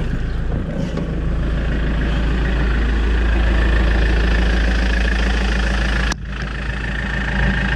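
The engine of an Iveco camper van idles in a steady, loud, close diesel rumble with an even low throb, and a brief click or knock is heard near the end.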